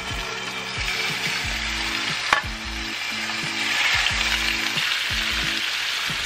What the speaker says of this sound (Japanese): チキンを焼いていきます